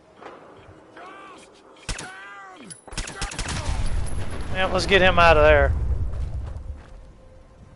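A suicider's blast in Fallout 4 bursts out as a loud, rumbling explosion that rolls on for several seconds, layered with a game character's shouts and a player speaking.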